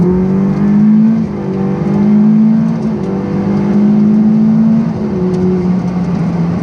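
Ferrari 488 Pista engine pulling hard under full-throttle acceleration, a loud, close, rising drone that climbs in pitch through several gears with brief dips at each shift, no talking.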